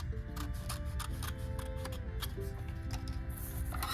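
Scissors snip a blue paper piece out of a traced sheet for a collage, a close, steady run of short crisp cuts with a faint ticking quality and no talking.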